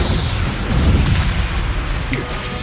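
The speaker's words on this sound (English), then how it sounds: "The Borg cube is firing." Star Trek Borg cube firing its weapons: a loud, continuous rumbling boom with dense low energy and a brief high whine near the end.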